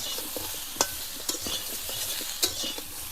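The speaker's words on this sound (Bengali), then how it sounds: "ভাজার মধ্যে দিয়ে ভালোভাবে ভেজে নেব লাল লাল করে।" Potato and cauliflower pieces frying in oil with turmeric and salt give a soft sizzle, broken by three sharp clinks of a spoon against the pan and a few lighter stirring scrapes, with no talk.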